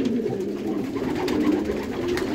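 Racing pigeons in pre-breeding condition coo close by in a loft, a steady chorus of low, throaty rolling calls overlapping one another.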